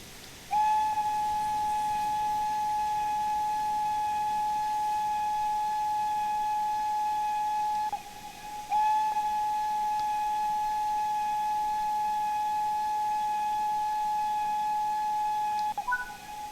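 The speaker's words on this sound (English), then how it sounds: "Perform two long whistles to alert the front locomotive." Two long, steady steam whistle blasts from an LMS Class 4F locomotive in the Train Sim World 4 railway game, each held about seven seconds with a brief gap between, loud and clear over a low background hum.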